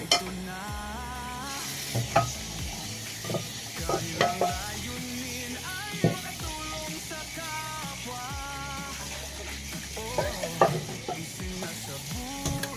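Food frying in a pan, with a steady sizzle broken by scraping stirs and clinks, while other background sounds come and go.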